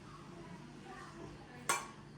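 A spoon knocks once, sharp and bright, against a pot during mixing. It comes near the end after a quiet stretch of faint kitchen background.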